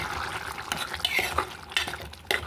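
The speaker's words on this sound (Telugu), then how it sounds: "చూడండి ఇంత బాగా ఉడుకుతుంది చూడండి ఫ్రెండ్స్" Bottle gourd dal curry, Andhra style, boiling in a pot, giving wet bubbling and popping with scattered clinks and drips. The sound is close and moderately loud, and no one talks.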